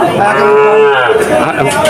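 A calf at the Chuknagar cattle market in Khulna bellows a single loud, drawn-out moo close by, with faint crowd murmur behind it.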